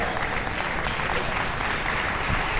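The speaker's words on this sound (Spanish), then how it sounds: "Si va a aplaudir, aplauda bien." A church congregation claps loudly and continuously, a dense wash of hands filling the room, steady from start to finish with no break.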